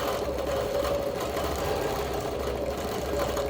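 A quilting machine stitching circles with constant backtracking, a steady close mechanical hum and rapid needle chatter running without pause.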